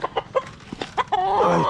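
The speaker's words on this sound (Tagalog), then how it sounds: "Ito yung stag na, ay yung broodcock natin na isa." A broodcock on a gamefowl farm clucks in a few short, close bursts, then lets out a longer drawn call, with no talking.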